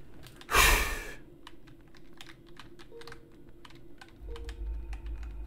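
Quick clicks of computer keys being typed, a scattered patter that continues after a short loud burst near the start, with a low rumble rising toward the end.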